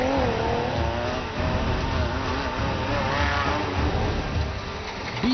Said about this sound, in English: Beasts blaring full throttle. Exhaust notes filled up the valley, and every driver was maxing his machine.